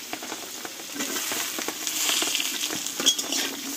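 Potatoes and vegetable stems sauté together in a pan without spices, giving a steady soft sizzle with scraping spatula strokes and light clinks throughout.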